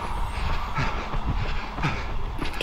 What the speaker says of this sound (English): And a train while we're going with the direction.